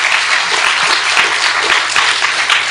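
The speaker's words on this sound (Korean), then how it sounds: "박수" A church congregation at a worship service claps in steady, dense applause, loud and close, filling the whole moment without pause.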